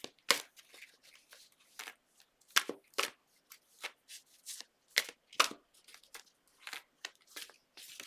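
Tarot cards being shuffled by hand, a series of soft papery riffles and slaps in irregular bursts, close and fairly quiet with no talking.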